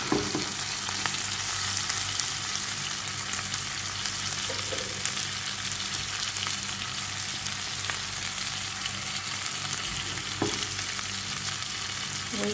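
Chicken pieces fry in a pan ahead of being made into adobo, giving a steady, loud, dense sizzle with faint clinks and stirring scrapes, and nobody speaks.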